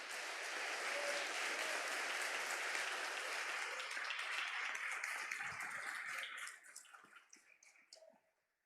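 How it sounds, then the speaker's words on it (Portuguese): A church congregation bursts into loud, sustained applause that fills the room, then thins out and fades over the last couple of seconds. "Uma salva de palmas para Jesus."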